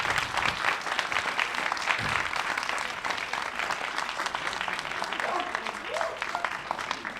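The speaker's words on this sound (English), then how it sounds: "I'd like you to give them all a big round of applause." Audience applause at a CWA 2024 conference session, a dense, steady patter of many hands clapping that holds for about seven seconds at a moderate level.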